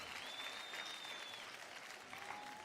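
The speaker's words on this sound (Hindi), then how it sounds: "जोरदार तालियों से स्वागत कीजिए।" Steady, dense applause from a television dance show audience welcoming dancers, a continuous wash of clapping with a faint tonal whistle sweeping above it.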